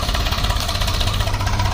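A New Holland tractor engine idles nearby with a steady, slightly knocking diesel rumble under a noisy, busy background, and no speech is heard.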